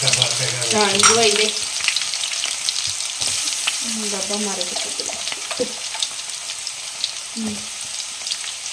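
Cumin and mustard seeds sizzle in hot oil while tempering spices for mango pickle, a continuous crackling fry with stirring, and snatches of a voice speaking briefly over it.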